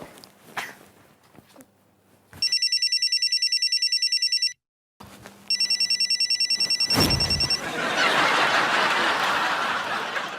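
A phone rings in two repeated electronic bursts separated by a short silence, followed by a rush of noisy rustling nearby.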